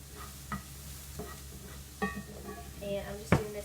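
Cauliflower rice fries in an iron skillet, a low, steady sizzle with occasional spatula scrapes and one sharper metallic clink near the end, fairly quiet and close.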